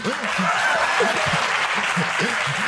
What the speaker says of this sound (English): This is the part where you clap your hands.